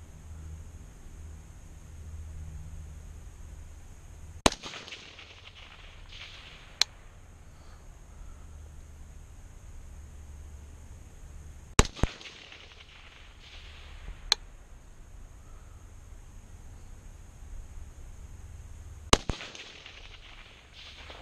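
Four sharp rifle shots from a 6.5 Grendel firing reloaded ammunition, spaced several seconds apart, each a crisp crack with a short echoing tail over steady outdoor hiss and low wind rumble, no talking.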